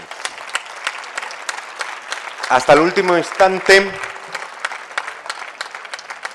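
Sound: applause at a graduation ceremony

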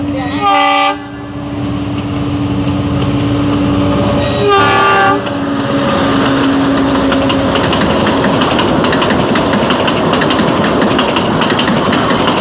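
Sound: train passing with horn, Himachal Pradesh

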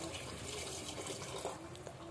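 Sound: water being poured into a pot of rice

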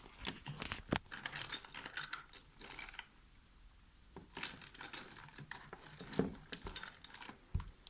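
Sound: rummaging through a paint bag looking for an eraser

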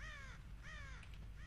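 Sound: crow cawing in video game Conker's Bad Fur Day

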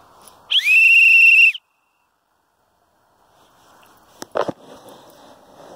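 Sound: lifeguard whistle blown

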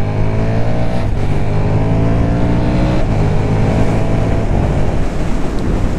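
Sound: KTM SuperDuke 1290 R motorcycle engine revving

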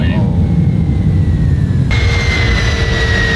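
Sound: airplane engine in a flight simulator video game

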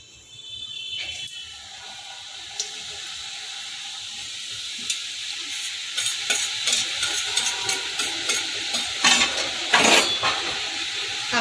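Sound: kucho nimki frying in refined oil in a kadai

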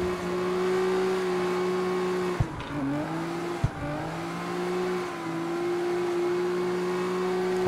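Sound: Dodge Challenger SRT drifting in video game CarX Street

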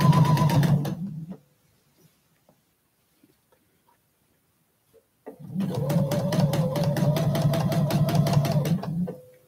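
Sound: sewing machine stitching quilt binding

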